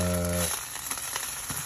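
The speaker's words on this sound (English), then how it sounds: "this is looking like a good 5 to 10 more minutes of frying" Plant-based popcorn chicken sizzles steadily in a frying pan, giving a dense, even crackle with occasional pops, heard close after a brief electronic tone fades.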